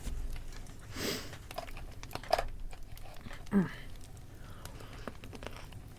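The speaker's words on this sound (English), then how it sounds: "Sorry if you can hear me chewing, by the way." Someone chewing tomatoes close to a microphone, with soft intermittent wet crunches and smacks, faint against a quiet room background.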